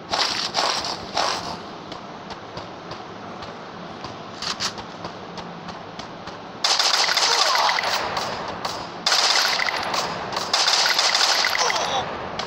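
Automatic gunfire in the Free Fire battle royale game, bursts of rapid shots rattling loudly in several stretches alongside game sounds.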